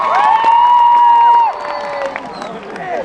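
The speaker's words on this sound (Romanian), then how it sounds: "Aplauze pentru DJ-ul nostru," A live concert crowd at Bocsa cheers, whoops and applauds, with loud rising shouts that peak and then settle into a lower, scattered clapping and cheering.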